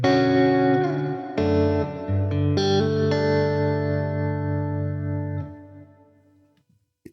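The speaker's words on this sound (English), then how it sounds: "The next type of reverb on this pedal is called epic." Electric guitar played through the epic reverb mode of an MXR reverb pedal, with a few struck chords ringing close and full, then a long, slowly fading wash that thins out toward silence.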